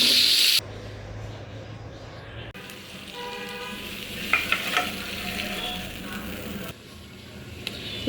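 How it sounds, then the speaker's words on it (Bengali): Lentil fritters (dal bora) spiced with turmeric, chilli, coriander, ginger, garam masala and cumin fry in oil with a moderate, steady sizzle, joined by a brief clatter of stirring midway and some faint background noise. "ডালের বড়া বানাইতেছি"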